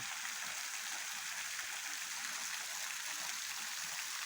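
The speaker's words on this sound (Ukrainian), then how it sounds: "Ось добралися ми і до Малівецького водопаду." Maliivtsi waterfall pouring into a small cave below, a steady broad rushing hiss of falling water, constant and close with no variation or voices.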